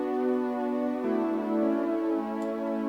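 Sustained synth pad from Serum playing without an LFO, a smooth steady chord that shifts once to a new chord partway through, loud and alone with no talking.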